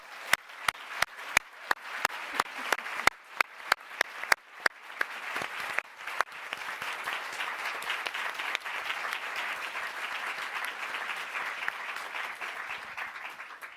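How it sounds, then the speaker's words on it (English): An in-person audience applauds an expert panel after a discussion, starting with a few sharp, spaced claps that quickly swell into a full, sustained round of clapping across the room. "can I get a really massive round of applause for our expert panel today?"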